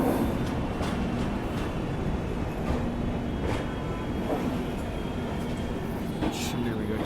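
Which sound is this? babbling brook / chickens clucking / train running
train running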